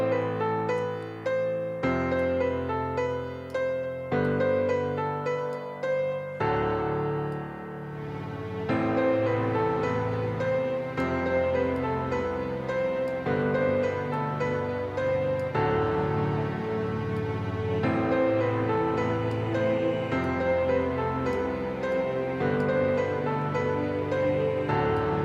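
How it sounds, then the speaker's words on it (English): A piano passage built up in a LUNA recording session with layered strings, choir and synth, steady chordal swells and sustained pads playing continuously at a moderate level with no voices. "So let's have a listen to just the piano, then I'll bring in some strings, a choir, and a synth."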